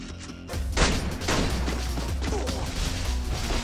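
Shotgun fire in the Free Fire battle royale video game, a sharp crashing blast followed by dense, overlapping impacts and clatter at moderate loudness.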